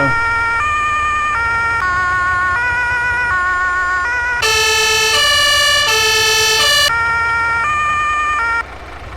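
A loud, steady non-American fire truck siren cycling through tones with rising and falling pitch steps, close by over a rumbling engine, continuous throughout.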